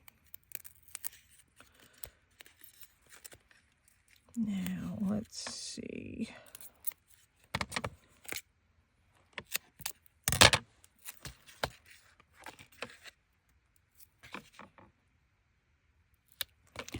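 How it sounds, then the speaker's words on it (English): Teflon scissors snip through card stock while a holiday shaker card is assembled, giving a few sharp, close cuts and crisp bursts scattered across a quiet stretch, with a person murmuring briefly between them. "I need my Teflon scissors for this one."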